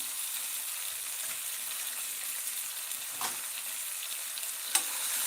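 Ingredients for snake gourd 65 sautéing in a pan, a continuous hiss of frying with a couple of brief scrapes, close and fairly quiet, no talking.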